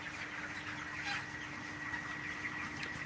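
Broiler chickens of about one and a half to two kilograms cluck and chirp steadily at a poultry farm in Cox's Bazar, a dense continuous flock chatter close by with faint background hum and no talking.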